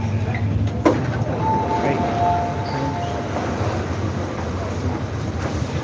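A Hong Kong MTR East Rail Line train rides the new extension toward Admiralty, giving a steady rumbling cabin drone with a faint tonal whine and a brief clank near the start, with quiet voices in the background.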